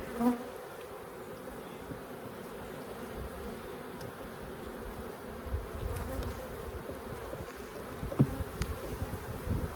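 Honeybees buzz steadily around an open hive during a summer bee yard inspection, a constant close hum with occasional louder individual bees passing near.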